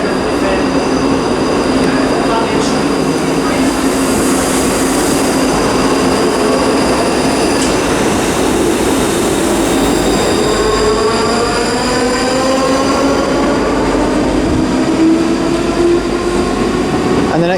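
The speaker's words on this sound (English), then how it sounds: "about to depart now is the 12:39 ScotRail service to Edinburgh" ScotRail train departing Glasgow Queen Street for Edinburgh, loud and close, with a steady rolling rumble, rising and falling electric whine tones and squealing wheels throughout.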